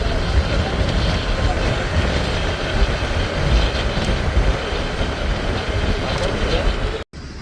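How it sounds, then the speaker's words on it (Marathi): A train rolling along its rails on a journey to a home village, heard as a loud, steady rumble with rattling carriage noise throughout, cutting off abruptly near the end. "ट्रेनला आलेलो आहोत"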